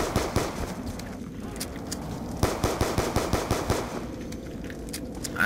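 Rapid automatic gunfire from the Call of Duty Black Ops 2 Zombies mode, loud close bursts of fast repeated shots running almost continuously, with no talk.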